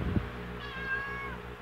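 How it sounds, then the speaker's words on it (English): A cat meows once indoors, a single drawn-out, close and clear meow that stands alone with no talk over it. "Hello, rental cat. Where are you?"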